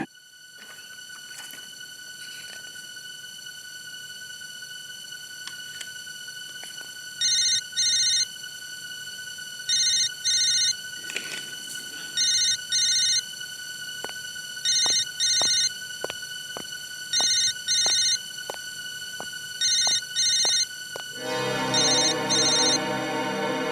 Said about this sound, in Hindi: बार बार क्यों फोन आ रहे हैं इसके?